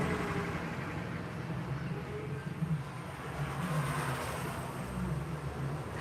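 Steady road traffic rumble beside a roadway, a continuous low drone of passing vehicles with broadband hiss that swells slightly near the end, no voices present.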